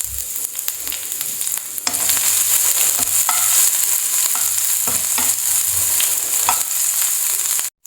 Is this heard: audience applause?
no